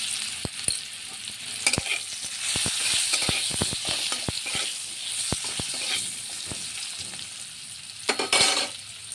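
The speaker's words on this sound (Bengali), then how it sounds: "আলু ভাজা হয়ে গেছে, উঠিয়ে নেব।" Potatoes seasoned with turmeric and salt frying in oil in a pan: a continuous close sizzle broken by repeated sharp spatula taps and scrapes, with a louder hiss near the end.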